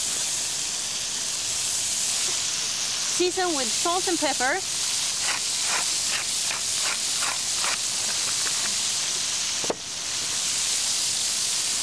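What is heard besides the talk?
meat sizzling in hot frying pan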